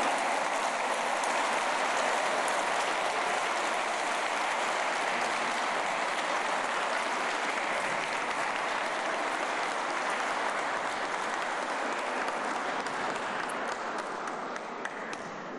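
A large audience at the Secretaría de Educación Pública gives steady, sustained applause to award-winning teachers, a dense even wash of clapping that holds for many seconds and tapers slightly toward the end.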